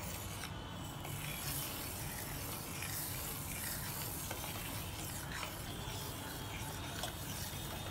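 Semiya payasam with sugar being stirred in a pan, giving a quiet, continuous scraping and rubbing with a faint sizzle beneath, close and without speech.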